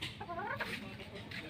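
Several chickens caked in mud cluck softly and repeatedly at a distance in a quiet pen, short rough calls following one another.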